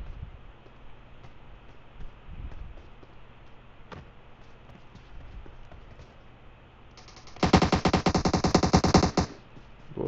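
Gunfire in PUBG Mobile on the Sanhok map: faint scattered shots early on, then a loud rapid automatic burst lasting about two seconds near the end, with no speech.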